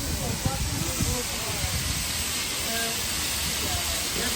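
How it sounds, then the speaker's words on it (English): Meat sizzles on a hot grill at an outdoor Easter market in Krakow, Poland, with a loud, steady hiss, and people talk nearby over the crackling. "And look at the sizzle."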